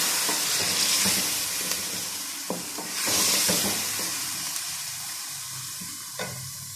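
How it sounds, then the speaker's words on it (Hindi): Chicken fries in a pan with blended raw onion, giving a loud, continuous sizzle and hiss with occasional scraping stirs and clacks of a spoon against the pan. "अब हम इसके अंदर कच्ची प्याज जो हमने ब्लेंड की थी वो ऐड करेंगे और इसको भी भून लेंगे"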